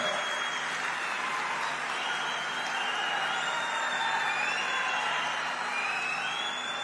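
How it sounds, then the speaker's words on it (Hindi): A large crowd at a political rally in Ichalkaranji applauds steadily for a dignitary, with dense, continuous clapping sustained throughout and faint cheering within it. "जोर से ताली बजाना जरा"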